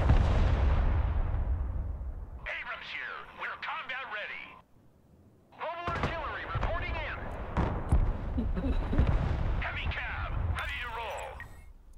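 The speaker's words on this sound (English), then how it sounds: "MLRS ready. Send fire mission." MLRS rocket artillery firing in the video game Broken Arrow, a deep booming rumble at the start that fades out, then people talk over radio-like chatter and further muffled blasts.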